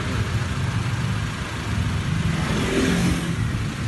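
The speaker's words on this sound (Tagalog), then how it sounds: "ito na HKS muffler namin" Honda Civic LXi engine rumbles and revs through an HKS muffler, a loud, close, continuous exhaust drone that rises slightly in pitch near the end.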